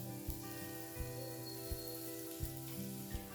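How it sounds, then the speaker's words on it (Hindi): Ground spice masala with turmeric powder roasting in a hot pan, a quiet steady sizzle with faint crackle and soft ticks recurring about every 0.7 seconds. "और इसे कम से कम 1 मिनट के लिए भून लेंगे"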